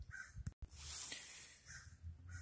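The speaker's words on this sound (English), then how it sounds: "I wish those crows can shut up" Several crows caw in loud, harsh bursts outdoors, a few calls spaced across a short stretch with a quieter gap in the middle.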